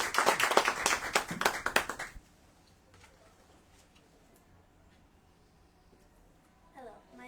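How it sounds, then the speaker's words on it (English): A short burst of clapping from a small crowd, loud at first then stopping abruptly, followed by quiet room tone and a faint voice. "Let's give Nava a round of applause."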